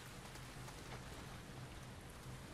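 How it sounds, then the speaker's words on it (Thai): Steady rain pours in The Last of Us Part II, a dense, even wash of drops on surfaces that fills the whole stretch, moderately loud and close, with no voices over it. "ฝนตกเปียก"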